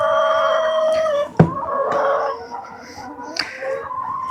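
Hens cluck and squawk nearby in short bursts in snow, with a sharp knock partway through and some faint background noise.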